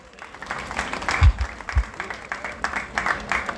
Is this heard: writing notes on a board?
no